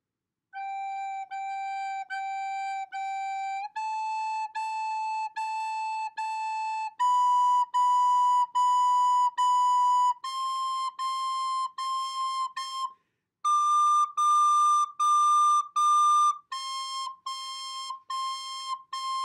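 A recorder plays sustained held notes in a steady sequence, each tone repeated several times before stepping to the next pitch, clear and alone with brief gaps between notes.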